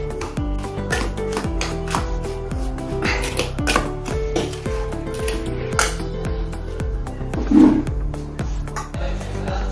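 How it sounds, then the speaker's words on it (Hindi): A spoon clinks and scrapes in a bowl, mixing a gujiya filling of powdered sugar, desiccated coconut and cardamom powder. Steady close kitchen clatter plays over rhythmic background music. "सभी को मिक्स करेंगे अभी"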